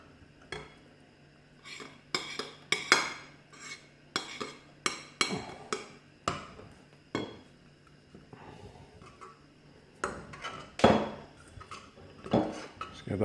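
A spoon scrapes and clinks against a pot while cream and chives are stirred into beer cheese soup, giving irregular metallic knocks and scrapes in bursts, close and fairly quiet, with no talking.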